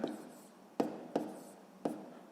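Handwriting on paper during a sixth-grade maths exercise: a few soft, quiet scratching pen strokes, each starting with a small attack and fading, close by in a quiet room.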